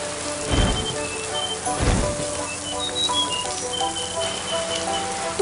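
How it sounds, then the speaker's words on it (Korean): Rain falling steadily on a mountain campsite near a tent, with a constant dense patter and two heavy, rumbling thuds early on. "어째 비가 더 오는 것 같은데?"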